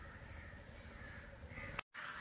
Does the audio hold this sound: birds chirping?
yes